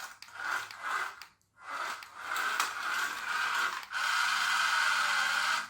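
A small electric motor whirs in a PT Cruiser RC slot car running along a track, rising and dropping in pulses, cutting out briefly, then settling into a steady close whine.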